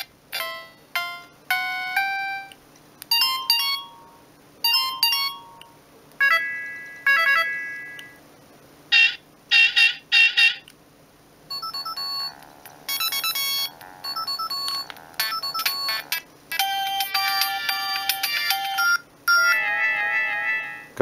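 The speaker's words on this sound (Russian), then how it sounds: "Короче, переключаешь на следующую мелодию, и кусочек предыдущий слышен." Polyphonic ringtone melodies from a Siemens CX75 mobile phone play one after another in short bursts, bright electronic beeping tunes starting and stopping as each tone is switched, close and clear with no voices.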